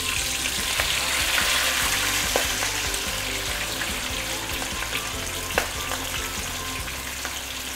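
A fish head fries in oil in a wok, with a dense, steady sizzle and occasional sharp pops and spatters, heard close up with no voices.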